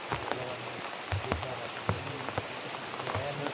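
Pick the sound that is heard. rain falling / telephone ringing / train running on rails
rain falling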